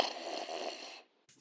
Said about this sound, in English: Carter hears snoring.